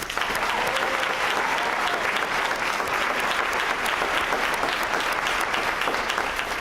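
A large audience at a high school graduation celebration applauds principals and assistant principals, dense continuous clapping filling the hall at a steady, moderate level throughout.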